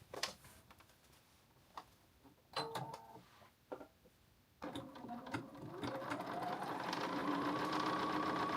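A sewing machine stitches the side seam of an oversized blazer, with a few short starts and clicks before settling into a steady, continuous run that grows louder and holds to the end.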